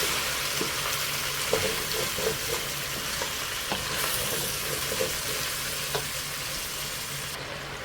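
Food fries in a hot pan while cooking macaroni with peas and vegetables: a steady, dense sizzle carries on alone, with a few faint clinks scattered through it.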